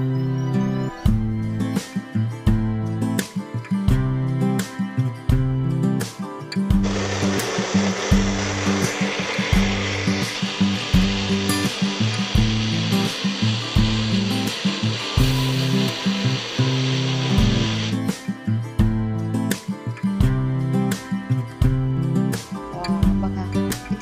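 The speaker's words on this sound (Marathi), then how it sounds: "याला आता ब्लेंड करून घ्यायचंय। ऑन ऑफ करत ब्लेंड करायचं।" A kitchen blender whirs loudly for about ten seconds, churning strawberries with vanilla ice cream and ice cubes into a smoothie, with steady mechanical hum and clatter around it; a voice speaks briefly.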